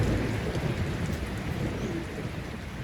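Rain falls steadily during a thunderstorm outdoors, a dense hiss of drops on surfaces with a low rumbling undertone, constant and fairly close, with no voices.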